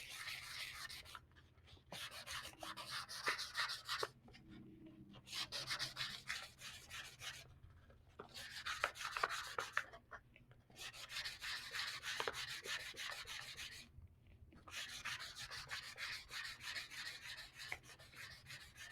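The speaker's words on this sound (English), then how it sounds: "you want to keep adjusting your sandpaper to make sure that you got a good rough surface" Hand sanding of an epoxy-coated tumbler cup with 220 grit sandpaper, steady rasping strokes in bursts of a few seconds separated by short pauses, close and moderately quiet with no talking.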